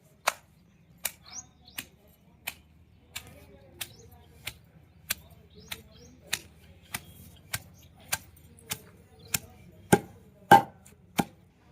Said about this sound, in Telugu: పచ్చిమిర్చి వేసి నూరుతాను రోట్లో